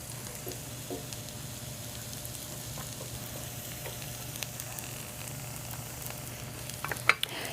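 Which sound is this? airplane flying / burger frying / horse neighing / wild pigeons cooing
burger frying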